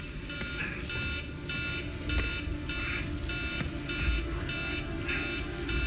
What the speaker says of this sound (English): It's still beeping.